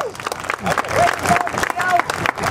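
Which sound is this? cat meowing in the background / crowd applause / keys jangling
crowd applause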